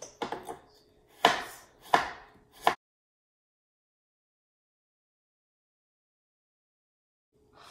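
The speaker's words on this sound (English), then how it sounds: "So this time I'm cutting the carrots again, julienne cut for the carrots." A knife rapidly julienne-cuts carrots on a cutting board, a quick run of light taps then three louder thuds, followed by a long silence and one faint chop.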